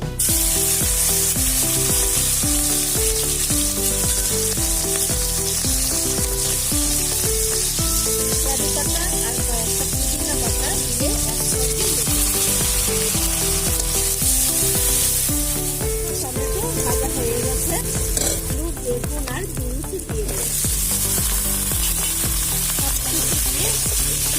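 Onion, green chili and chopped tomato sizzle loudly in hot oil with cumin seeds and a bay leaf. The frying roar is continuous and close, with stirring throughout and no talk.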